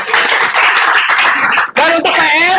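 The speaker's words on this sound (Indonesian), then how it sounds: "Tepuk tangan." A classroom of students claps together for classmates who came forward, a brisk burst of hand claps that briefly dips and then resumes, with voices mixed in.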